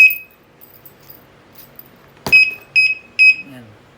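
An LL9805 gate alarm lock sounds after being twisted: one shrill electronic beep at the start, then a knock followed by three short piercing beeps in quick succession, close and loud.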